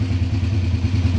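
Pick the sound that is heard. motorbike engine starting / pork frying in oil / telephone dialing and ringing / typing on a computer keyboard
motorbike engine starting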